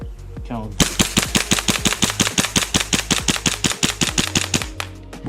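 A Delta Armory P01 gas blowback airsoft pistol, a Glock 17 replica, fires a long rapid string of about thirty sharp snapping shots in an even, quick rhythm, loud and close.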